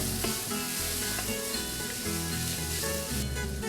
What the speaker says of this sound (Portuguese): A nossa carne já está bem dourada. Dá uma leve refogada.